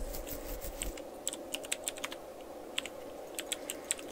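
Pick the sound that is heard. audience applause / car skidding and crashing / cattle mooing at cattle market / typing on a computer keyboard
typing on a computer keyboard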